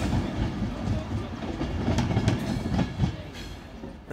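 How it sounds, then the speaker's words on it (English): A Transport for Wales diesel multiple unit train rolls past at Crewe, its steady low rumble and rhythmic clickety-clack of wheels over rail joints holding near and loud throughout, with no voices. "Transport for Wales DMU."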